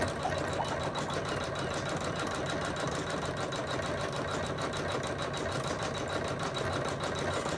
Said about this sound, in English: Lovely white stitching coming out.